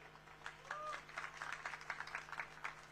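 A crowd at an outdoor Nationalist Congress Party rally in Sawantwadi claps in a faint, distant patter of many hands over a steady electrical hum, with a brief whistle-like tone early on.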